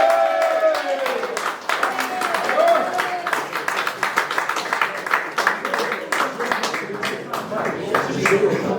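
A crowd at a football club end-of-season presentation bursts into sustained cheering and applause for a player, dense clapping with shouts carried throughout, loud and close.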